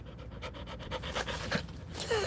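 A dog pants rapidly and rhythmically close by, a quick series of breathy huffs over a couple of seconds with no talking.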